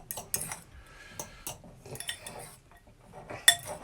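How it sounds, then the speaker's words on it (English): A spoon stirs a Moroccan lamb tagine in a pot, making close, irregular metallic clinks and scrapes with quieter rustling in between. "give that a wee stir"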